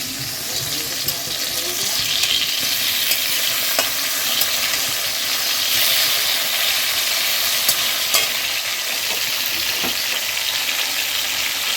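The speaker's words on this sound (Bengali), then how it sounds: "আর এখানে মাছ ভাজা করছি" Fish sizzles in a frying pan in a home kitchen, a continuous bright hiss with occasional small clinks and spatters, loud and close throughout.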